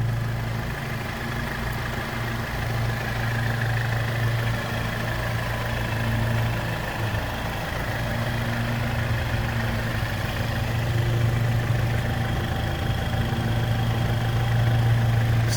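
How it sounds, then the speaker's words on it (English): A Jeep Wrangler Sahara's four-cylinder 2-liter turbo engine idles in a steady, even drone with a low hum, heard close and alone for its full length. "four-cylinder, 2-liter turbo engine"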